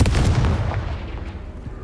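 Confringo blasting spell explosion in the Hogwarts Legacy video game: a single loud, close, booming blast with a deep low rumble that decays over under two seconds.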